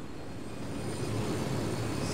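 A helicopter in Ghost Recon Wildlands flies on with a steady, droning engine and rotor roar that holds constant and fairly loud throughout, with no talking over it.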